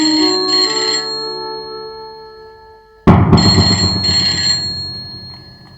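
Telephone ringing with a repeating electronic tone that fades at first, then cuts back in sharply and louder with a busier ringtone pattern, without any speech.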